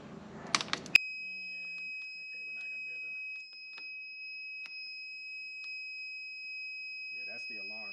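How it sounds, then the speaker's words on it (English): A portable power station's low-voltage alarm sounds a continuous thin, high-pitched electronic tone, steady and fairly quiet, after a short burst of handling noise, with a faint voice near the end. "That's the alarm to show that the voltage is too low"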